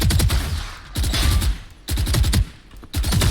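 Gunfire in a first-person shooter game, probably Counter-Strike, comes in four loud, rapid automatic bursts separated by brief pauses, close and punchy, with no talking.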